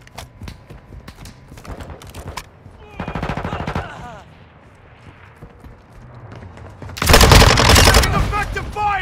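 Automatic gunfire in Call of Duty Modern Warfare 2, a Hardpoint match on the Shipment map: scattered shots and rapid bursts, near and loud, ending in a heavy close burst, with game voice callouts mixed in.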